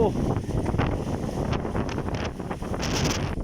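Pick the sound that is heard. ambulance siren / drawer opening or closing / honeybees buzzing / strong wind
strong wind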